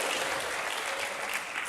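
Church congregation applauding at a worship service, a steady dense wash of many hands clapping at once, moderately distant and even throughout with no voices on top.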